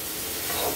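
Okra (bhindi) frying in a pan is stirred briefly, a steady close sizzle with soft scraping under it, alone without talk.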